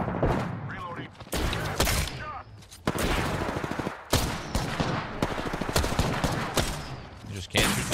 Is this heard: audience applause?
no